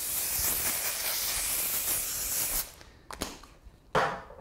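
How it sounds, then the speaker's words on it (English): Dry shampoo sprayed from an aerosol can onto hair during a bohemian waves styling, a loud continuous hiss for about two and a half seconds, then two short bursts. "Dry shampoo helps to knock any shine off, and just spray it on"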